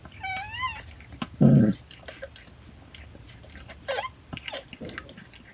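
A domestic cat named Bartlett meows in a short rising call, then again more faintly a few seconds later, close by, with a brief loud rustle and quiet background noise between.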